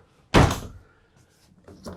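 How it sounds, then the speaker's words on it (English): A sliding door on a 41ft Seawind 1260 catamaran thuds as it is moved across and shut, one solid close knock followed by quiet and a faint rattle at the end. "This door goes across."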